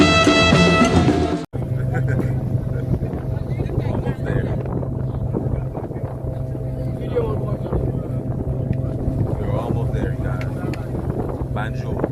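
A boat engine drones steadily on the water with wind buffeting the microphone, after a brief burst of other sound at the start.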